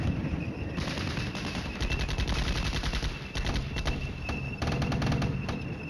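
Clattering machine-gun and rifle fire in the wargame Flashpoint Campaigns: Red Storm, a West German campaign battle, steady rattling bursts close up with a few dull thumps, no voices.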